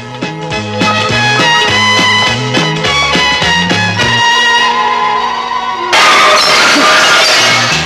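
Music plays steadily, then a loud burst of a glass shop window shattering crashes in near the end and lingers as scattered debris noise.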